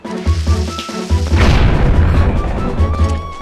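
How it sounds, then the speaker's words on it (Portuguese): A bomb blowing up in The Legend of Zelda: Twilight Princess, a single loud close boom with a crackling rumble that fades over a few seconds against a pulsing low musical tone. "Vamos ver essa nova bomba"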